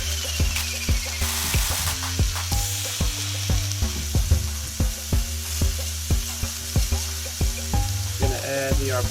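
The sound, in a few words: arborio rice tossed in a hot pan for risotto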